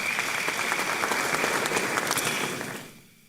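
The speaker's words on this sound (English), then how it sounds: "Shall we do a big round of applause for him?" An audience at a law school honorific lecture applauds a retired Court of Appeal justice. The clapping is dense and sustained, then fades away at the end.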